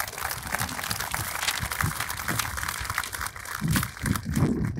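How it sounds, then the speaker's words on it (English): A crowd claps steadily, a dense patter of applause that swells slightly toward the end. "Round of applause for these folks"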